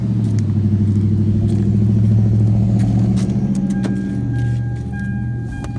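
A car engine runs steadily right after being started during a transmission fluid drain and fill, producing a loud, close, low rumbling drone that eases slightly toward the end, with no talking.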